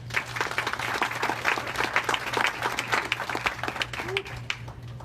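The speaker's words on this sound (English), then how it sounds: "please give me a good round of applause to our friends of District 3" Audience applause at a tech and life-science networking event, steady dense clapping filling the room for several seconds, with a low constant hum beneath and a voice faintly present.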